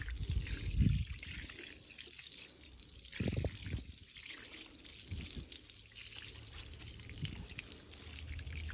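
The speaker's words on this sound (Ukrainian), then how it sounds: "А зараз все це добренько смачую водичка, як завжди." Water poured over freshly laid mosaic tiles, with gentle splashing and trickling that comes in a few short bursts over a soft steady background, close and quiet, with no talk.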